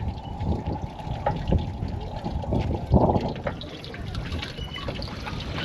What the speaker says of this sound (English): I got a swing that pumps water.